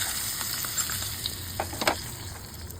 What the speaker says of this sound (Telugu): ఇప్పుడు ఈ పోపుని ఇందులో వేసేసుకుంటాం.